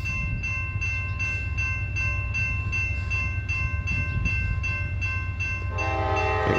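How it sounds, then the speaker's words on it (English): A CSX southbound steel freight train with gondolas and steel slab cars rolls past close by in Plymouth, Michigan, its horn blaring in long sustained blasts over the steady rumble and clatter of the cars, with no talking. "Got a southbound train coming."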